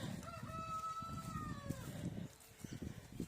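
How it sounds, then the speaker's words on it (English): A hen calls out in a drawn-out, wavering vocalization over low rumbling background noise, followed by quieter clucks and rustling, outdoors in a paddock. "the hen is helping"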